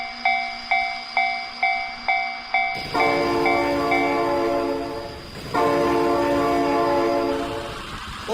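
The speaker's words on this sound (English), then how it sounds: "Oh my God, train!" Train horn blasts in the BeamNG.drive driving game, several short repeated honks then a long sustained blare as a train rolls past with a loud rumbling, clattering wash of noise.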